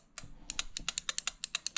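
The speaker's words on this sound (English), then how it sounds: "a relay here that's clicking, but she's not trying to start" A starter relay on a Honda Spree scooter clicks in a quick, fairly even series of about a dozen sharp ticks, close and alone over a faint low hum.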